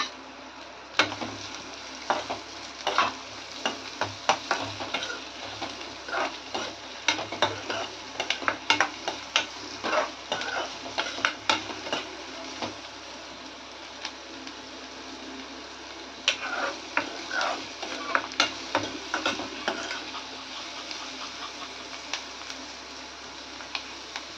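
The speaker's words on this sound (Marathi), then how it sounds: "जिरे जरा गरम झाले की लगेच आपण कांदा परतून घ्यायचा।" Onion is stirred in hot oil with cumin seeds, a steady sizzle in the pan under repeated sharp clicks and scrapes of a spatula, close and continuous, with no talking.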